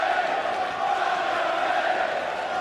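A darts arena crowd roars and chants in a sustained, dense wall of noise, urging on a player during a Champions League of Darts semi-final, steady and loud throughout without a break.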